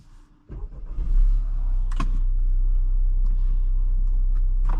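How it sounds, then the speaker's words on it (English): A 2021 Acura RDX turbo engine starts up: a brief cranking burst swells into a steady idle rumble that holds evenly to the end, with a small click along the way and no talk. "All right, starting this car up."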